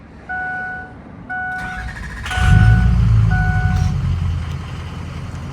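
A diesel truck is switched on, with reversing-style warning beeps chiming in short repeated bursts before the engine catches and settles into a loud, steady low rumble.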